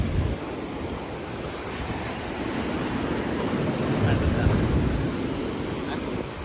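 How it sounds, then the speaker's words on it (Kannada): Ocean surf washes steadily onto the shore, a continuous broad roar of breaking waves mixed with wind buffeting the microphone, fairly loud and unbroken throughout. "ಇಲ್ಲಿಗೆ ಹೊಡಿತಿದೆ ನೀರು ಗೈಸ್."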